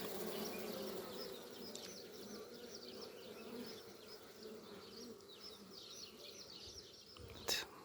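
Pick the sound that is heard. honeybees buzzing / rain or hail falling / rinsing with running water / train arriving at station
honeybees buzzing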